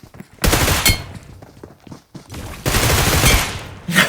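Bursts of automatic gunfire in a PUBG match, several loud rattling volleys separated by short pauses, close and harsh.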